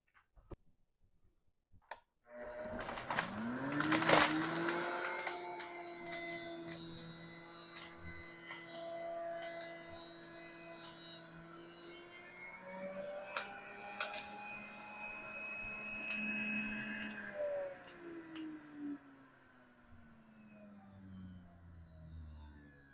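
An electric juicer runs steadily for about twenty seconds as burdock leaves are fed through it, giving a whirring motor hum with grinding, clicking texture, then winds down.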